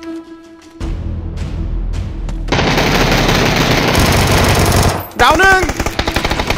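Rapid automatic gunfire in the PUBG battle royale game, close and loud, in sustained bursts with a voice speaking briefly over it, followed by sharper separate shots.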